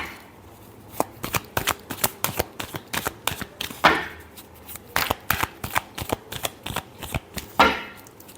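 Tarot cards are shuffled by hand in a run of crisp riffling flicks and taps, close and moderately soft, with a couple of longer fluttering riffles among the quick snaps.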